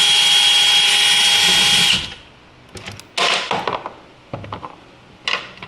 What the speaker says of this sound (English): It is a T30, by the way, so you just want to remove these two screws.